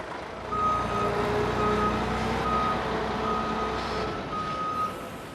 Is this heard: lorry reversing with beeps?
yes